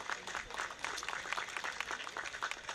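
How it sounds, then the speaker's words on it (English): Outdoor applause from an audience at a city birthday opening ceremony in San Dimas, a steady, moderately quiet patter of many hands clapping for a few seconds. "let's give them a big round of applause"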